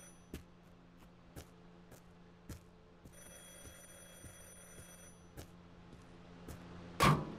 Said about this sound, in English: And a phone is ringing.